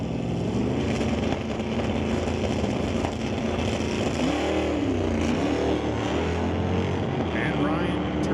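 A '66 Satellite and a '69 Acadian at a drag race rumble and rev at the line in a loud, continuous engine roar, with a rising engine sweep partway through, as an announcer talks over the noise.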